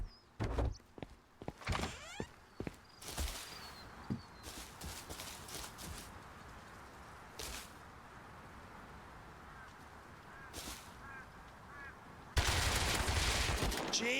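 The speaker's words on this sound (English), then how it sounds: "listen to the headshots" Video game gunfire with headshot impacts: a series of sharp, irregular cracks and thuds early on, a few isolated hits later, then a sustained loud burst near the end, alongside clattering game effects.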